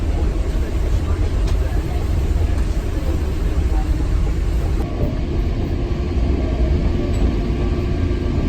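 A passenger train pulls out of a station at the start of a panoramic run from Italy into Switzerland, its steady low rumble and rolling rail noise filling the scene continuously at close range with no pauses.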